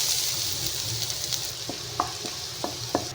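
Garlic sizzling in a hot pan while making buffalo wings, a steady loud frying hiss with a few scattered pops and taps near the end.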